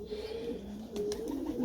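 Long-distance marathon racing pigeons cooing in a loft, steady overlapping low coos throughout, fairly close and continuous with a few brief sharper sounds midway.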